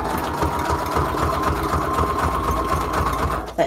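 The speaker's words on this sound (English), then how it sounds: "That new sewing machine, new life, whatever." New sewing machine running at a craft table, a close, steady rapid mechanical chatter of needle strokes that continues evenly before stopping at the end, with no talking over it.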